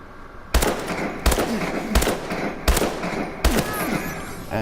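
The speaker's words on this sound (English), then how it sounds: "this is how many shots it will take to kill at its longest range" Five sharp, loud single gunshots from the HBRa3 rifle in Call of Duty Advanced Warfare, fired at a steady rhythm of roughly one every three-quarters of a second, each with a short ringing tail.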